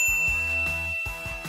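A notification bell sound effect plays alone, bright ringing chime tones over low thumping beats, two quick strikes repeating within a second and a half.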